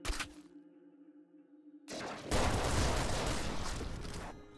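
Ultra shotgun blasting in the top-down shooter Nuclear Throne: a loud, dense burst of gunfire that swells suddenly after a short quiet stretch with a low hum, then keeps roaring for a couple of seconds before tapering off.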